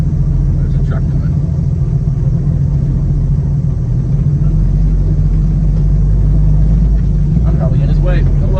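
An oncoming truck passes on a rural road, heard from inside a hopper bottom grain truck hauling corn, as a loud steady engine rumble with a brief rush near the end while someone talks.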